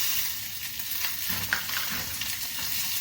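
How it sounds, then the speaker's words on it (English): Garlic and onions sauté in a pan, a steady crackling sizzle close by with soft stirring scrapes and a small clink, no voices over it. "While the garlic is cooking, we will add the onions"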